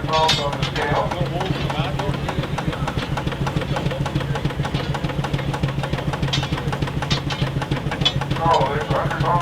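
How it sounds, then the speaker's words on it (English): Rumely stationary steam engine at a 2022 steam show, belted to a load with about 100 pounds on the scale, runs with a steady low chuffing rhythm and mechanical knocking, continuous and close throughout, with faint crowd noise around it. "You just barely started to hear the engine think about working a little bit."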